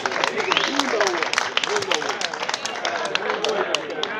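Applause and cheering for the winning team at a village festival in Újkígyós, a steady patter of clapping from a nearby crowd with shouts and voices mixed in throughout.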